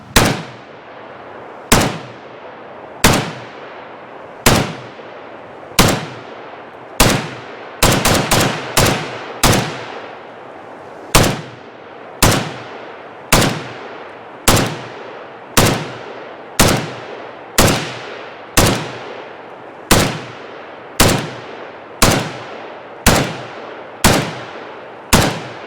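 A Zastava ZPAP M72 RPK rifle fires at an outdoor range, loud sharp single shots spaced about a second apart. A brief quick cluster of shots breaks the rhythm midway, and each report rings with a short decaying echo.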